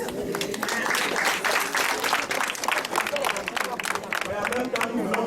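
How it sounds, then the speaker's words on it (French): Mourners at a funeral gathering break into applause, a dense wash of hand clapping with crowd murmur and voices mixed through it. "j'applaudis pour lui"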